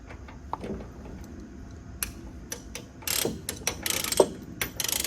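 A ratchet chain binder being tightened on a chain securing a Case 445 for hauling gives a series of sharp metallic clicks and ratcheting ticks, sparse at first, then quicker and louder toward the end, with no talk.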